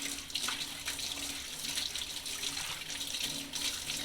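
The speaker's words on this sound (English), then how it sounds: "take the back of the comb here, the round part, and run that through the water" Water runs steadily from a paint shop sink tap while a paint roller is rinsed and a comb's rounded back is drawn through it, giving a continuous close splashing rush with no talk.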